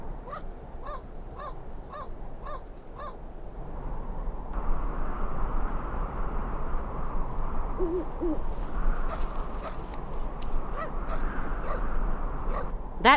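Repeated bird calls from the video game Syberia 2 sound in a rhythmic series of hoots, then give way to a denser, louder wash of ambient noise with scattered sharp calls, and no talking.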